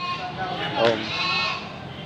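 Goats bleat amid the crowded bustle of a livestock auction market in Batangas, one wavering cry rising above a constant wash of voices and pen noise.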